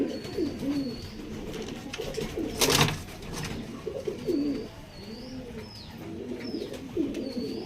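Two female pigeons coo steadily through the whole stretch, a rolling burble of overlapping calls close by, with thin chirps above and one brief louder rustle partway through.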